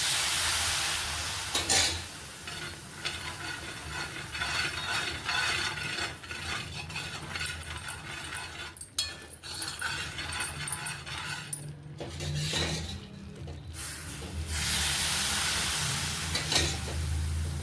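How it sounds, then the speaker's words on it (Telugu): Thick Mysore pak mixture stirred continuously in a pan as oil is added bit by bit, a long run of scraping, bubbling sizzle with occasional louder clanks of the spoon against the vessel. "అలా ఆయిల్ అయిపోయే వరకు ఇలా వేసుకుంటూ కలుపుకుంటూ ఉండాలి."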